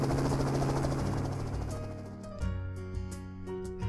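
A helicopter in the visual novel game Kinkoi: Golden Loveriche lifts off with a loud, dense rotor roar that gradually thins into a steady thumping drone as it climbs away.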